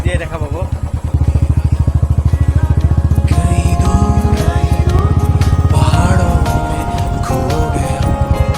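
A motorcycle rides along a muddy, rain-soaked road through green countryside, its engine running steadily and close by. A singing voice and music sit over the engine throughout.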